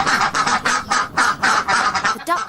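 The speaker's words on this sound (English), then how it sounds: "The duckling gave a loud quack." A duckling gives a loud quack in a storybook scene, heard as a run of about eight harsh, honking calls in quick rhythmic succession, close and loud with no talk over them.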